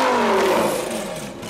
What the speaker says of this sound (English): deafening fucking V10 right here.